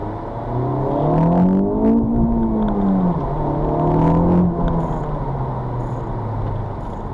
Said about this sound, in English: You actually hear this car bouncing off the rev limiter on the way back down.